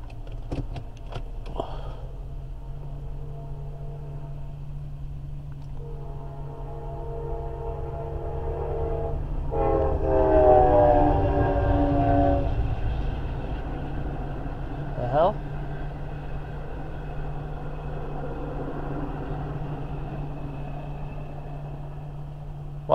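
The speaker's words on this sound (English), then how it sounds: "That is a big train" A heavy train passes in New York state, rumbling with a steady low drone that swells in the middle, carrying harmonic horn-like tones, while faint voices sit underneath.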